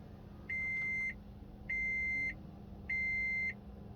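A hardwired car dash cam powering on when the car starts sounds three identical steady electronic beeps, each about half a second long, evenly spaced and clear over a low background hum.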